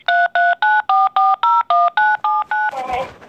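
A telephone keypad beeps out ten steady, evenly spaced DTMF tones in quick succession, loud and close, followed by a brief burst of noisier sound as the dialing ends.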